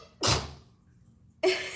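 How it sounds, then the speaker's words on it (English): Two sharp bursts, each a quick explosive sneeze, separated by a short silence. "All right, that was a sneeze."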